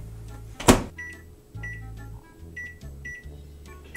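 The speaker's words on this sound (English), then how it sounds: "could you actually put that in the microwave" Microwave oven heating mashed potatoes, a low steady hum running in repeated bursts over about four seconds, with one sharp louder knock or clatter near the start and a few faint beeps or tones above.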